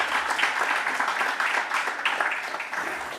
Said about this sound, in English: One more round of applause for Safaricom CEO, Mr. Peter Ndegwa